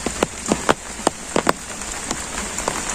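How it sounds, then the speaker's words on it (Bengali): Heavy monsoon rain falling in a village, a steady close patter with a dozen loud, irregular drips and splats striking a surface nearby. "বৃষ্টি খালি পড়তে আছে, বৃষ্টি আর থামার নাম নেই"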